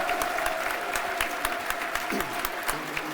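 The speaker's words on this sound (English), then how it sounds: "Standing ovation all around the den." A stadium crowd at Millwall's Den gives Femi Aziz a standing ovation, with steady, dense applause and cheering rolling on throughout under a faint voice.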